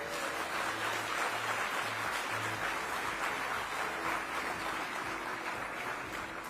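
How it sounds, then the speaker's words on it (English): An audience at a technology summit gives a steady round of applause, a broad continuous wash of clapping with a low tone sounding underneath. "Can we give them a proper round of applause?"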